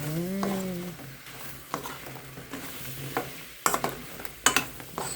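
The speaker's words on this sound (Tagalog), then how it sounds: "ilalagay na natin yung kamuti Q natin. Para talagang ma-coat siya." Kamote cue sweet potato chunks stirred through melted sugar in a pan, a steady sizzle broken by several sharp scraping clacks of the spoon against the pan, close and moderately loud, with a brief humming tone at the start.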